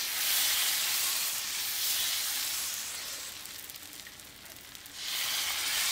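Steady hiss of dosa batter sizzling on a hot tawa, a crunchy fasting-style dosa, continuous and close, swelling and easing slightly with no voice over it.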